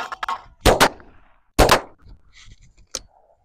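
A Stevens 555 20-gauge field shotgun fires two loud, sharp blasts outdoors about a second apart, with brief voices and quieter sounds between and after.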